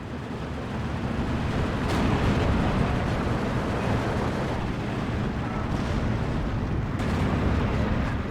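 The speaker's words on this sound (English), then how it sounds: "Looks like a bombing strike up north." A bombing strike by PE-2 bombers in the real-time strategy game Steel Division 2 brings a sustained rumble of distant explosions and blasts that rolls on steadily for several seconds.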